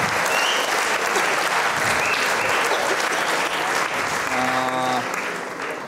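Sustained audience applause at a theater event with a Hrazdan theatrical studio, dense and loud clapping filling the whole stretch, tapering slightly at the end, with a brief faint tonal sound partway through.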